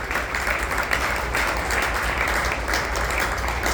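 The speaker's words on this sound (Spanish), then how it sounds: "Denle un aplauso fuerte a Jesús." Loud, steady applause fills a church congregation for several seconds, a dense continuous wash of clapping with no clear breaks.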